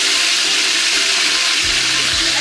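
Marinated chicken dropped into very hot oil, giving a loud, steady, close sizzle with a dense crackle throughout and a couple of low thumps near the end.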